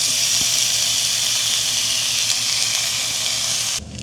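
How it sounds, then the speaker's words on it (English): Bacon pieces sizzle in a skillet on a camp stove, a dense continuous hiss and crackle that holds steady and then drops off abruptly near the end, with no voices. "We're gonna start by throwing in 2 slices of bacon that I pre-cut into 1-inch pieces."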